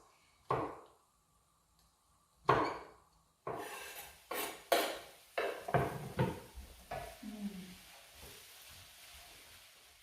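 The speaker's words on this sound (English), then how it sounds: "Chop our chestnut mushrooms" A knife chops chestnut mushrooms on a board in a home kitchen: quiet, sharp strikes, at first sparse and widely spaced, then quicker and more closely bunched, with near silence between cuts.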